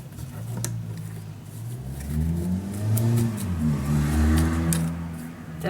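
A car engine revs hard, its loud droning pitch climbing and falling through several swells over a few seconds, with no talking.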